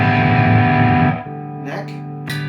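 A distorted PRS S2 Mira semi-hollow electric guitar rings out on the bridge pickup, sustained and gritty, then cuts off, followed by brief string noise and a short voice.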